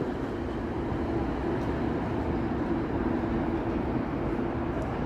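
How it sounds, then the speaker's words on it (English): A GO commuter train rolls past on a Toronto street on New Year's Eve, a steady low rumble and clatter of wheels that holds at an even level throughout, with no talk over it. "So that was a GO train before"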